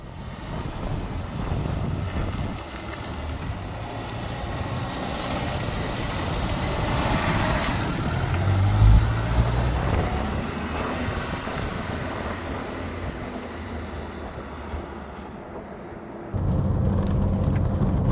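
A Renault R5 GT Turbo on a small bumpy road, heard from inside as a steady engine drone with road and wind rumble that swells and eases, then drops abruptly near the end.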